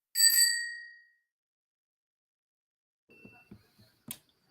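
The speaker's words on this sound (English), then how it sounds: "ring the bell" Bright metallic bell ring with a short decaying tail, struck once and loud and close, followed after a pause by a few faint clicks and taps.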